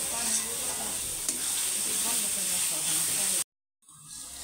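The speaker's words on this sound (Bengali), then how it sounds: "প্রথম পেঁয়াজগুলাকে তেলে ভাজা ভাজা করে নেওয়া হচ্ছে" Onions fry in oil, a loud, close sizzle with stirring scrapes that holds steady, then cuts off sharply to near silence before a faint return.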